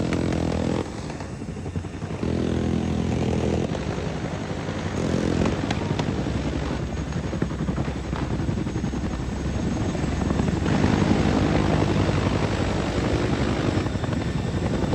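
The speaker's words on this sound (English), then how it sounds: "Yeah, those Chinooks, man, they're amazing." Chinook helicopter flying by, a loud continuous roar of rotors and engines that holds steady and swells slightly as it passes, with no voices.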